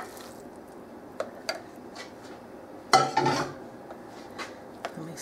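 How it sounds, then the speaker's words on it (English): Cooked ground beef being stirred into Texas chili in a crockpot, heard as soft squishing scrapes with a few faint clinks of utensil against the pot, one louder wet stir burst midway, fairly quiet overall. "Stir this in"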